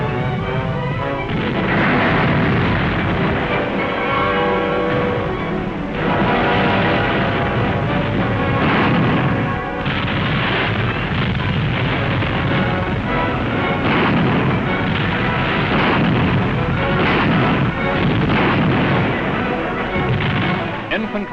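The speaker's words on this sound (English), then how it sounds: "Heavy ack-ack opens the drive to outflank Emden." Heavy anti-aircraft guns pound away in a WWII newsreel barrage near Emden, a loud continuous wall of booming fire with a dense rumbling low end and a steady din throughout, mixed with a music score.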